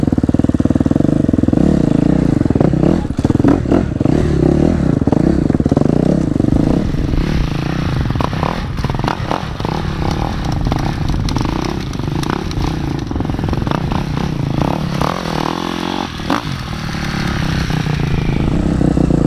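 A motorcycle engine roars loudly and continuously while being ridden, revving up and down through the whole stretch, close and dominant with no other sounds standing out.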